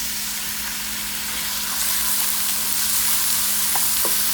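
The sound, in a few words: onions sizzling in a pan with garlic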